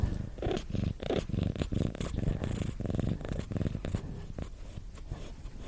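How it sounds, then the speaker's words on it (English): A cat purrs close and steadily, with rhythmic rumbling pulses of breath continuing throughout and no one talking. "We'll get the purrs in there,"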